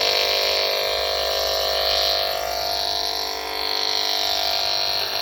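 An EMF meter held near a laptop emits a continuous loud electronic tone, a buzzing, pulsing whine with wavering pitch that never stops, no voices.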